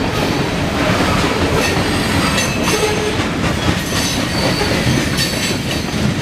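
CSX northbound coal train passing in Marion, Ohio: a loud, continuous rumble of rolling cars with rhythmic wheel clatter and occasional faint squeals, steady and close throughout.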